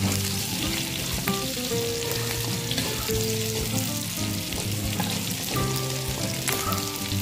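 Onions sizzling in a pan of rendered pork belly fat, a steady loud crackling fry with occasional stirring clinks, close and continuous, no talking.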